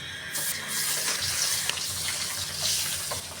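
Pabda fish crackle and sizzle steadily in hot oil in a pan, a close, continuous frying hiss with small pops and no voices.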